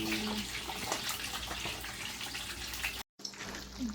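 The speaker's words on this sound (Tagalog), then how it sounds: "Iigahin lang natin yung tubig tapos nilutuin natin sa mantika." Water runs and splashes steadily while siomai cooking is underway, a continuous close wash of flowing liquid with a brief cut near the end.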